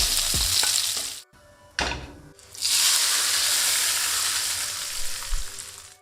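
Lamb chops sear in a hot pan, a loud bright sizzle that cuts out briefly, returns in a burst, then holds strong and steady to the end, with no talking.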